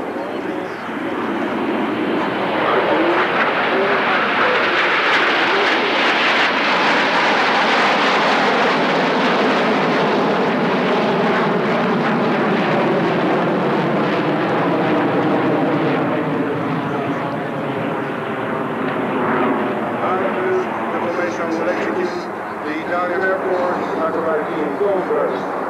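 A nine-aircraft formation and a solo jet at an airshow roar overhead in one long, loud, continuous pass that swells, holds and slowly fades, with a commentator's voice running underneath.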